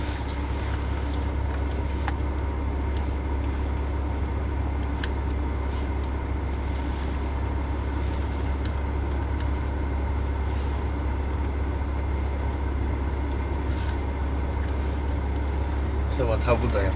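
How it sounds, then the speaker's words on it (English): Porsche Cayman sports car driving on a circuit, its steady engine drone and road rumble continuous and loud throughout, with a brief louder burst near the end. "Tak to się właśnie jechało Porszakiem, Caymanem."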